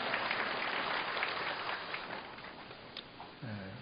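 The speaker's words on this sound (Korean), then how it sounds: "한 번 더 박수로 우리 감사합니다." A church congregation applauds in a steady, muffled wash of many hands clapping at once. The sound stays fairly distant and gradually thins out, and a voice speaks near the end.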